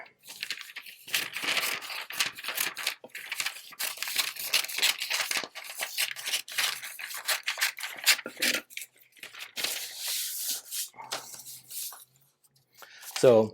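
Dull scissors snip and crunch through a paper body template in irregular close cuts, with paper rustling between snips and a person talking over part of the cutting.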